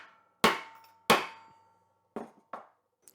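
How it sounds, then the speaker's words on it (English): Four metallic brass-hammer strikes ring out while flaring a spinner ring: two loud hits, a pause, then two lighter taps, each with a brief ringing decay. "Use a brass hammer of some sort."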